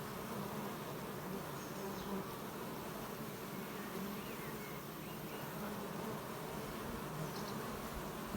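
Honey bees hum continuously at a hive entrance fitted with a queen excluder, a constant close swarm drone with individual insects passing now and then, no voices.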